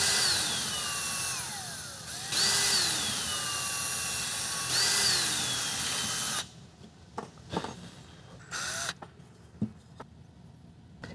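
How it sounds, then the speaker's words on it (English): A power drill whines loudly in several long bursts as it pre-drills wooden boards for a potato cannon build, followed by quieter clunks and short handling noises. "So I want to pre-drill these so they don't crack the boards."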